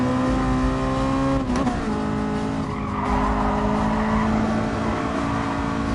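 A race car's engine revs and strains against its limiter in GT Sport, a loud, sustained, pitch-steady drone with a brief tire squeal around the middle.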